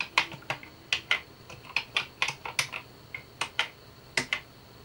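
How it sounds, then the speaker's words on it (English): Fingers tap out code on the keyboard of a VTech PreComputer 1000, a series of sharp, clicky keystrokes in an irregular rhythm, close and clear with no voices. "type in some code."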